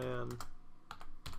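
Several quick bursts of key presses from a computer keyboard while entering network switch commands, clustered in short clicking groups close to the microphone with no talking.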